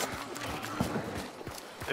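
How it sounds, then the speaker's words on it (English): Horse hooves clip-clopping in the video game Hunt: Showdown, a soft run of hoofbeats under the continuous murmur of nearby voices talking over game ambience. "leave the horse alive"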